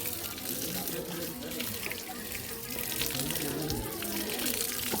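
Water flows steadily and continuously at close range on an Anjanadri hill outing, a broad, even rushing wash with people faintly talking underneath.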